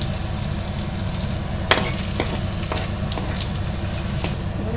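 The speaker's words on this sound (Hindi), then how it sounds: "अब मैंने डाल दिया कढ़ी का छौंक" Hot oil tempering (chhaunk) for kadhi sizzles steadily in a pan at close range, a continuous broadband frying hiss with a few sharp clicks and pops of spices spattering, and no talk.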